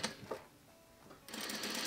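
A sewing machine stitches horsehair braid onto the hem of a wedding dress, a quiet motor whir with a short burst at the start and a louder run at the end.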